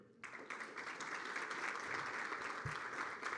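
Audience applause at a forum's closing panel on mass litigation, starting abruptly after a brief quiet moment and continuing as an even wash of many clapping hands.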